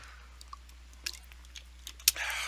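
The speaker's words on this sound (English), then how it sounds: "Take a drink of water for you." Someone takes a sip of water up close: a few faint, wet mouth and swallowing sounds spaced out over a quiet background, with no talking.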